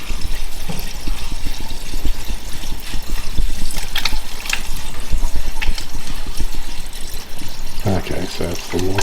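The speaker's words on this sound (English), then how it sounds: "it's the water in here that's making the noise" Water rushes loudly and continuously through household plumbing, a dense gurgling flow under intermittent speech.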